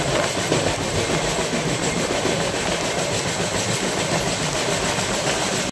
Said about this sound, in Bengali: দরজার ধারে দাঁড়িয়ে দেখি আমাদের ট্রেন পার করছে এখন পঞ্চরত্ন স্টেশন